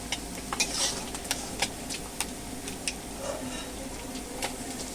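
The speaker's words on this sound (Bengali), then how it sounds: "এভাবে আমি একে একে সব মাছগুলোই ভেজে নেব" Small puti fish frying in oil with shapla in a Bangladeshi-style recipe: a steady soft sizzle under sharp, irregular clicks of a utensil stirring and tapping the pan, close and moderately loud.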